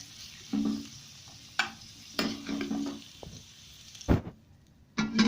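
Cauliflower fries in ghee in a pan, heard as bursts of sizzling and stirring scrapes with brief clinks of a spoon, separated by quieter gaps.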